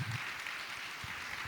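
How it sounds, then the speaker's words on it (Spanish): A church congregation applauds with a soft, dense patter of clapping that carries on steadily over a faint low rumble, distant rather than close. "dale el aplauso a Dios que le ibas a dar hace rato"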